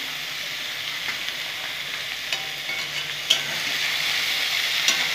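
Mustard greens cook uncovered in a pan in their own released water, giving a steady close sizzle and bubbling hiss with a few soft stirring knocks.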